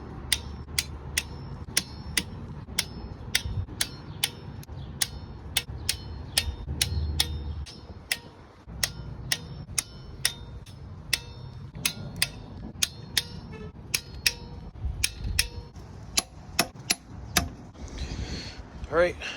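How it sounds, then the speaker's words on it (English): A torque wrench tightens a camshaft bolt on a Jeep Wrangler JL 3.6 engine, giving a long series of sharp, evenly spaced ratchet clicks near the mic with a brief pause midway. Someone speaks now and then beneath the clicking. "time to take the torque wrench out"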